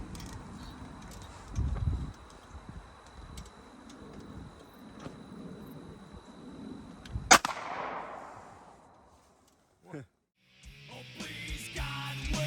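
A single sharp Glock pistol shot cracks loudly midway, its echo trailing off into quiet before a brief smaller knock and then indistinct background noise.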